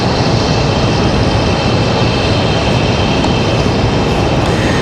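A Breeze airliner taxiing at Raleigh Durham International Airport produces a loud, steady jet engine roar that dominates the scene without a break.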